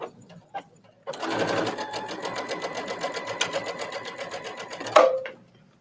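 A Brother sewing machine stitching fabric, running steadily for several seconds with a fast rhythmic needle chatter close by, then stopping with a short clunk.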